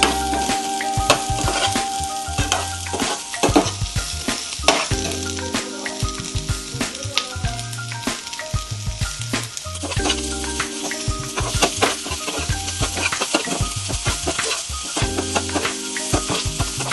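Chicken manchurian pieces frying on high flame, with a continuous loud sizzle under repeated scraping and stirring strokes throughout.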